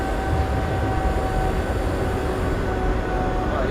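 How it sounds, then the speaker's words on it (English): A train in Train Simulator Classic rumbles past in a city, a loud continuous roll of wheels with a faint steady tone running through it, and no voices. "train going over the top."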